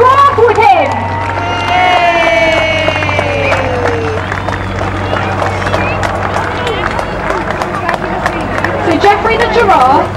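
A crowd at an RAF Falcons parachute display applauds and cheers for a landed parachutist, a steady wash of clapping and shouts mixed with chatter and an announcer's amplified voice.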